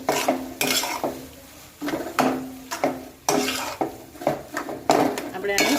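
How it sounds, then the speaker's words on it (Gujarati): A spoon stirs and mashes bread cutlet mixture with masala and coriander in a metal pan, giving repeated loud scraping and clinking strokes in an uneven rhythm, close up with a faint sizzle underneath. "જો અંદર ગઠ્ઠા રહી ગયા હોય તો આ રીતના ચમચાથી કરી દેવાનું જેથી સરસ મેશ થઈ જશે"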